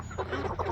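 A rooster on a homestead gives a few short, close clucks over low background noise, with no talking.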